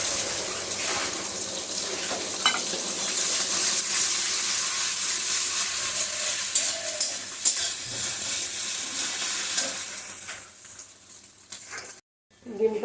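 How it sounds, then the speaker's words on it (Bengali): Egg frying in hot white oil in a wok on a high gas flame, giving a steady broadband sizzle that fades near the end, with a short silent gap just before the close. "ডিমটাকে হালকা একটু ভেজে তুলে নিচ্ছি।"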